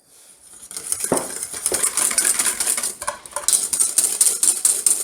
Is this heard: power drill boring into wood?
no